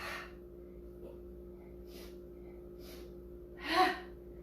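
Rhythmic yoga breathing comes as a series of short, evenly spaced forceful breaths, faint and close over a steady low hum, ending with one stronger, louder exhale.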